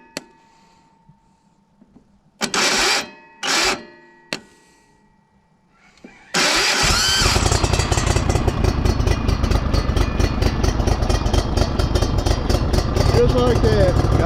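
An old engine cranks and catches after its solenoid is jumped with pliers, then settles into a loud, steady, rapidly pulsing run, after a few short bursts of noise and quiet moments at the start.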